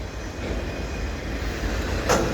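A passing CN freight train of empty auto rack cars rumbles steadily nearby in snowy winter with a low rolling roar and faint metallic rattling, and a brief squeal or clank near the end.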